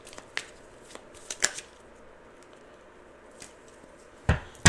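A deck of tarot cards is shuffled up close in a quiet room, giving soft scattered riffling and flicking sounds with a few sharper snaps, the last near the end.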